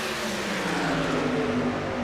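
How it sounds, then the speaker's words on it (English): Continuous engine roar from a pack of racing trucks circling Michigan Speedway in a racing game, a steady loud drone with layered motor tones and no speech. "Look at all those trucks here at Michigan Speedway."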